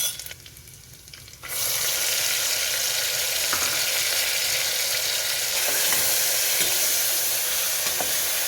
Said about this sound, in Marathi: आपण आता यामध्ये कांद्याची पेस्ट टाकणार आहे